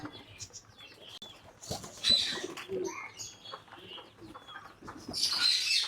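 Pigeons at a home pigeon house give soft, intermittent coos among occasional chirps and brief wing flaps, moderately close and alone, with a louder burst of activity near the end.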